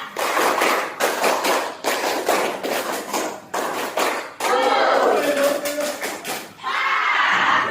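A group in an Indonesian classroom performs the 'tepuk semangat' spirit clap, bursts of rhythmic clapping in short sets separated by brief pauses, with chanting voices mixed in near the end.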